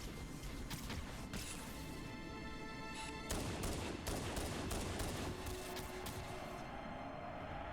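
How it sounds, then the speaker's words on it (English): Gunfire in the Halo Combat Evolved video game, with a handgun shooting a grunt: several sharp shots and impacts over a dense, loud game soundscape of rumbling effects, with no voices. "I'm gonna use my little handgun here, and we're gonna shoot the"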